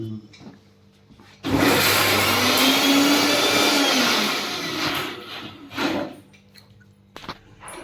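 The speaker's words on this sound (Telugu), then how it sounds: "అట్లంతా మిక్సీ కేస్తా అన్నారు మిక్సీ" A kitchen mixer grinder starts abruptly and runs for about three seconds at a loud, steady whine, then winds down as voices and household noise return.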